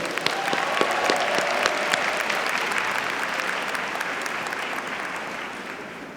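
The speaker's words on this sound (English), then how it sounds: "Let's give them another round of applause." A crowd applauds a glee club performance at a college commencement ceremony, with steady, loud clapping and scattered cheers that taper slightly over several seconds.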